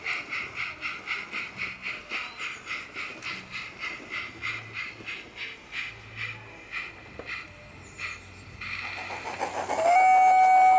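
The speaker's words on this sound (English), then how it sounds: "our train can be reversed into the entrance to the castle grounds" A light railway train on a heritage line near a castle rolls slowly with a regular rhythmic clatter of wheels over rail joints, then slows and gives way to a loud steady hiss and a long sustained whistle-like tone at the end.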